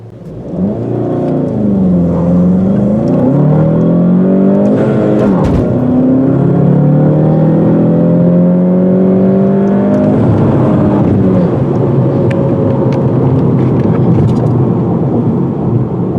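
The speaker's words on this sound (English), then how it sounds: "This is a peppy little engine. It works great with the 6-speed manual." A 2020 Volkswagen GTI engine with a six-speed manual revs up through the gears, the pitch climbing and dropping with each shift, loud and steady throughout.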